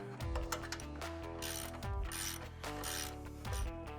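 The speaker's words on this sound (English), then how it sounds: "We're going to go ahead and snug our ball joint up now and come back and torque it later." A ratchet snugs the ball joint nut on a truck's front suspension during a ReadyLift suspension lift kit install, with steady rapid metallic clicking running throughout at close range, no voices present.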